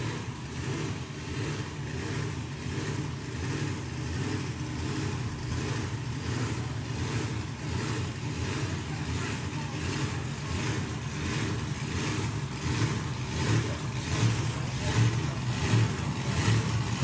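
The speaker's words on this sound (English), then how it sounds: "this lovely little slingshot dragster" A slingshot dragster engine rumbles and revs at a hot rod drag race, a loud, dense, continuous roar with rhythmic pulsing, heard from nearby with no talking over it.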